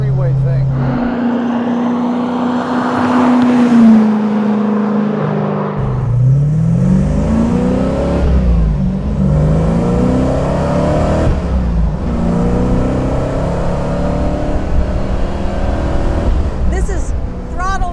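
A sawed-in-half, widened MGB with a 535 hp supercharged V8 and six-speed gearbox accelerates hard, its engine note climbing through rising harmonics and dropping between shifts, loud and close, with people talking over it.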